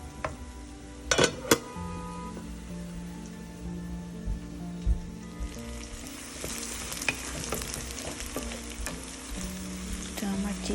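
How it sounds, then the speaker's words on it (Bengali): Steady sizzling of ginger garlic paste frying with browned onions for chicken korma, a continuous close crackle with a few louder spits and stirring scrapes near the start. "এখন আমি আদা রসুনের পেস্ট অ্যাড করব। আদা রসুনটা দিয়ে আমি একটু সময় ভেজে নেব।"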